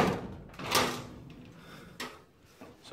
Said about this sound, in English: Door actually works.